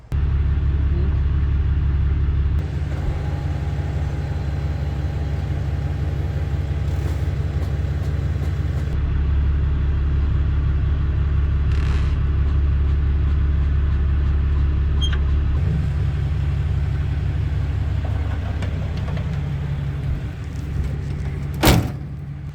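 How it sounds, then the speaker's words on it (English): Pickup truck with a Gen Y gooseneck 5th wheel hitch rumbles steadily up close as it pulls forward, the engine drone continuous throughout, with a sharp clunk near the end. "and then the whole hitch will come up off of the ball, and then I can drive forward"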